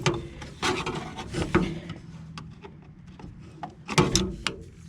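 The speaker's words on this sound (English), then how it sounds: "first I have to loosen both screws on the hose clamp" Screws on a hose clamp are loosened at an RV black tank, with close, faint scraping and rubbing of metal on the fitting in short irregular bursts and small clicks.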